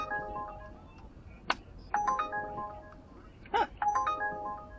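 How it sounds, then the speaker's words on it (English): The Uber driver app on a phone sounds its job offer alert inside a car, a short run of bright electronic chimes and tones, moderately loud and close, with a few separate sharp beeps between them. "You'll hear the app go off properly in a second"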